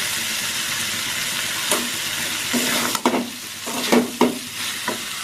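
A spice mixture stir-fried in a pan, a constant loud sizzle broken by several scraping strokes of a spatula that briefly swell the hiss, close and without talk.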